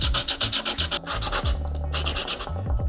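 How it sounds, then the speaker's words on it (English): Rapid rhythmic rasping strokes of sanding on a wooden box for a DIY case fan testing machine, close and steady with brief pauses between bursts, no voices. "Maybe a bit of sanding."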